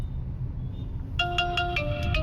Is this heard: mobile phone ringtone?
yes